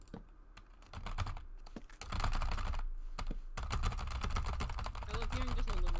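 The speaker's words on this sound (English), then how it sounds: "I love hearing just a little bit of typing." Fast typing on a computer keyboard during a Minecraft stream, a close, crisp run of clicking keystrokes with short pauses between bursts.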